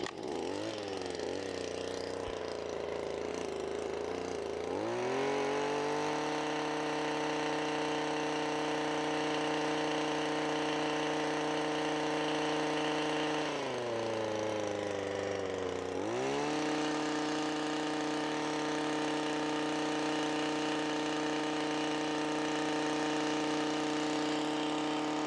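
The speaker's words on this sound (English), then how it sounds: "we'll see how quick the Yard boss tills in the ground with this standard tines" A Stihl Yard Boss tiller fitted with standard tines runs steadily at close range, its small engine droning loud and continuous as it works the ground, pitch dipping and rising twice as the load changes.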